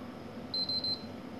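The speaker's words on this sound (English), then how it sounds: "It is with a yellow light error" Three short, high electronic beeps in quick succession from a PlayStation 3 Slim with a yellow light error, clear over a low steady hum.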